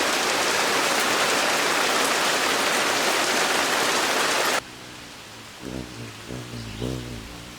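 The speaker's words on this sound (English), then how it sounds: "Take a look at this rain." Steady rain pours down in a dense, loud hiss for several seconds, then drops away abruptly to a quieter patter with some low rumbling sounds underneath.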